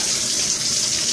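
Water rushing from a shower valve that won't shut off during building maintenance, a loud, steady hiss of flow with no voices.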